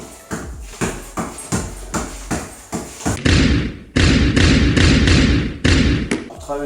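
A basketball dribbled alternately between the legs gives a steady run of close, loud bounces on a hard floor, then later settles into a heavier, more sustained stretch of ball impacts.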